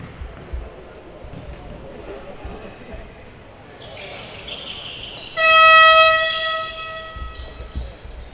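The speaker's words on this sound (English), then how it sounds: "That buzzer is a little better. Still sounds like an air horn, though." A loud, blaring gym buzzer sounds for about two seconds, harsh and horn-like like an air horn, over a noisy crowd at a basketball tournament final with faint squeaks and voices.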